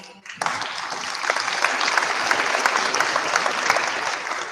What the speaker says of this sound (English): I don't want to talk through the clapping